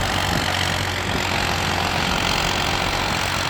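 Farmtrac tractor engine running steadily in low gear, a continuous loud near rumble with no talk over it.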